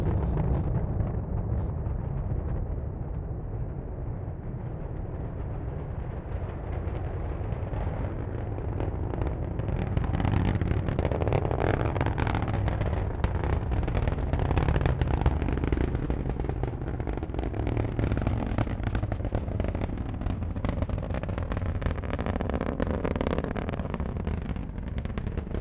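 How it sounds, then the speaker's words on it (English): A SpaceX Falcon 9 rocket lifts off from Florida, the nine Merlin engines giving a continuous deep, rumbling roar with crackling and wind buffeting on the microphone, loud and sustained with no voices. "Let's listen to the roar of those 9 Merlin engines."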